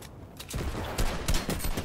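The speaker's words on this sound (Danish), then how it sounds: "Oh my god, det er skud." Gunfire in the video game Fortnite: a quick irregular burst of five or six sharp shots, moderately loud and close, over a low background rumble with no talking.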